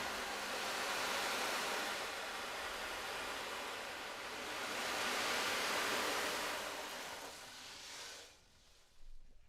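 Metal balls roll and slide inside an ocean drum, imitating ocean waves with a steady soft hiss that swells and recedes twice, then thins out and fades near the end.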